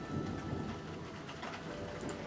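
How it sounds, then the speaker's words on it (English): Steady rain with a low rumble of thunder rolls on without a break, a broad wash of noise at even loudness and no voices. "comforting sounds of rain and thunder"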